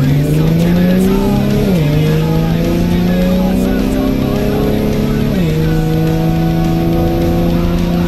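A 2010 Camaro with paddle shifters accelerates hard on an open road, its engine note climbing loud and steady through two upshifts, each marked by a brief drop in pitch before rising again.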